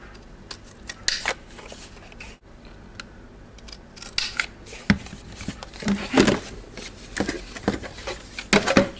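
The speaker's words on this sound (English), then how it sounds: "Trim it down till it's the right shape." Scissors trimming a strip of card, heard as a series of sharp, close snips and rustles that come in irregular bursts and grow busier toward the end.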